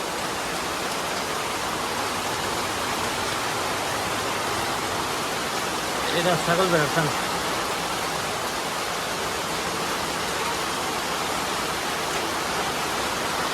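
Steady rain pours down at a goat farm with a goat shed, an even hissing wash of falling water throughout, with a brief voice speaking partway through.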